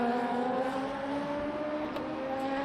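An opponent's race car engine in the Le Mans Ultimate racing game drones steadily at a moderate distance, a sustained humming tone with faint whir, fairly quiet and without talk.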